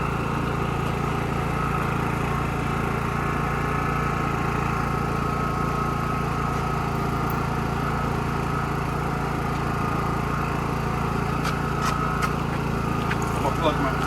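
A Champion 4500 watt inverter generator runs at a steady, even drone for the whole stretch, close and continuous, with a few faint ticks and clicks near the end.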